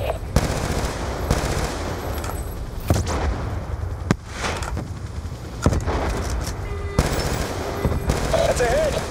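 Rapid automatic gunfire and bursts of shots in a Call of Duty: Black Ops 2 battle, loud and dense with repeated rattling volleys and impacts, mixed with game sound effects.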